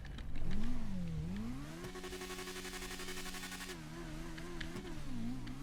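Game-engine sound of a BMW S1000RR superbike in GTA 5, a steady revving engine drone with a rapid rattling burst of exhaust pops in the middle, close and fairly loud, with no talk over it.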